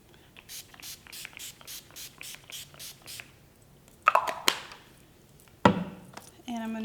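Paradise setting spray mists onto a face in a series of quick, close, hissing pumps, about a dozen short bursts in rhythm, followed by a few louder single sprays.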